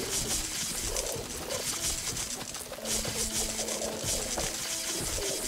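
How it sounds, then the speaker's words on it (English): Birds coo in the Plants vs. Zombies 3 video game, with soft repeated dove-like calls over a busy bed of game effects and music. "So many birds."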